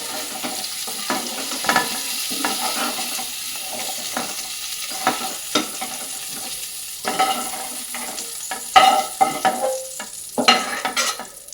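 Vegetables frying in a pan sizzle under repeated stirring, the utensil scraping and clinking against the metal at irregular intervals, steady and close with no talking.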